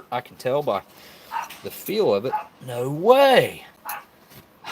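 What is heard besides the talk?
dog barking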